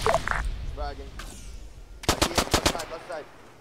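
A rapid burst of about six sharp automatic gunshots in ARMA 3, close and loud, following a brief voice and quieter background, with an abrupt stop after the burst.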